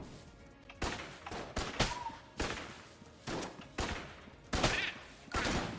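Winchester rifle gunfire in the video game Enter the Gungeon, a series of about nine sharp shots at a steady, moderately spaced rhythm over faint game background sound.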